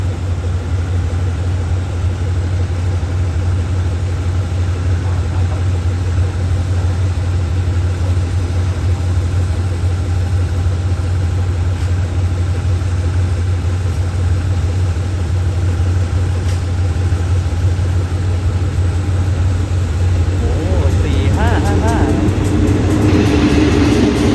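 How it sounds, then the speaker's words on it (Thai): A local train, number 446 from Hat Yai to Chumphon, arrives at Tha Chang station with a steady low engine drone and rumble. The noise stays constant throughout and builds slightly near the end. "ขณะนี้รถท้องถิ่นขบวน 446หาดใหญ่ชุมพรเข้าสู่สถานีท่าจางในทางที่1ครับ"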